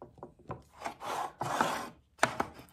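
A pencil marks a line on a walnut box lid one inch from the edge, giving a few short, close scratchy strokes and brief taps in quick succession.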